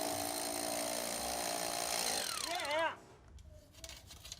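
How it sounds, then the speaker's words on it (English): A drill bit bores through a borehole in the stone walls of a French château, a loud steady mechanical grinding that winds down and stops abruptly near the end, leaving quiet room noise with faint sounds. "I think I can hear the sound of his drill bit going through the borehole"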